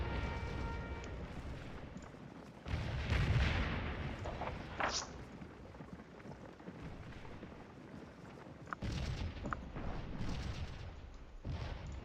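Artillery fire in the Civil War strategy game Scourge of War at the Battle of Stones River, deep booming blasts and rumbling battlefield ambience, with a louder burst of fire near the three-second mark and more blasts later.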